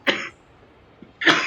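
Two sharp human coughs, one at the start and a second stronger one after a short pause, close to the microphone in a quiet room during a French interview.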